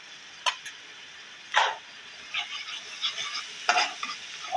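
Ginger garlic paste frying with browned onions in a hot pan, a steady close sizzle broken by a few sharp stirring scrapes, with no voices.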